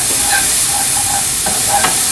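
Black pepper is stirred into a creamy mushroom sauce in a pan, with a steady soft sizzle and gentle scraping strokes repeating over a couple of seconds, no voices.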